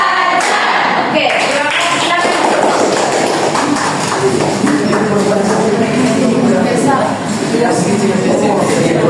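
Children in a classroom clap a call-and-response rhythm, with counted tapping patterns mixed under a busy chorus of young voices chanting along.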